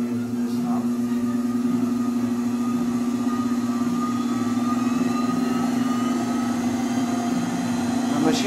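An 8-inch Smart Cut variable speed grinder polisher runs at about 3000 RPM, giving a steady, even motor hum and a high whine that stay level throughout.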